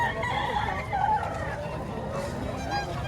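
Chickens at a busy poultry sale in Padre Garcia, Batangas, cluck and call close by amid crowd murmur and people talking.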